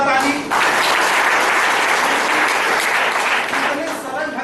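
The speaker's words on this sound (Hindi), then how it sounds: "उनके लिए एक जोरदार ताली" A room of listeners at a BNI business seminar claps hard for a presenter, a sustained wash of applause with faint voices mixed in.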